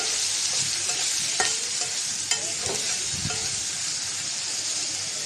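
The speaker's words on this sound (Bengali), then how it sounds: "পেঁয়াজ আর কাঁচামরিচ দিয়ে দিলাম পেঁয়াজটা একটু বেজে নেব একসাথে" Onion and green chilies frying with shrimp in a pan, a steady close sizzle broken by a few stirring scrapes and clinks, with no voices.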